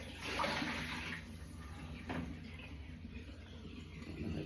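Water drains from a saucepan into a kitchen sink while washing up, a faint close splashing pour with a couple of brief surges.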